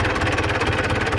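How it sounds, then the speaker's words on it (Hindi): An old tractor engine, left standing unused for a long time, chugs with a fast, steady rhythm of thumping pulses, loud and close, with no voices. "अभी मारता हूँ इसको सलफ, स्टार्ट होता नहीं होता। पुराना ट्रैक्टर है"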